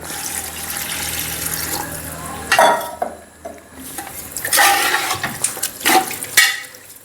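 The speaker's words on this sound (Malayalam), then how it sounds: "അതിനുശേഷം നമുക്ക് ഒരു അര ലിറ്റർ വെള്ളം കൂടെ ഒഴിച്ചു കൊടുക്കാം" About half a litre of water is poured into a metal pot in a couple of bursts, with splashing and light clanks of cookware, close and fairly loud.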